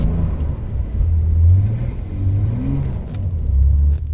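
Rear-wheel drive Porsche 911 making a hill start in snow, its engine a loud, low rumble that swells and revs unevenly under strain for several seconds, heard from inside the car with no talk.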